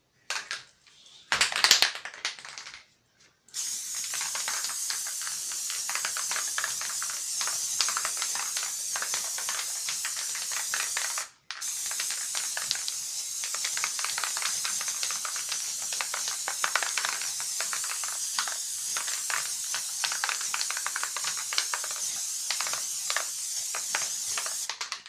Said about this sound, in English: I'm just gonna spray it all down with glue.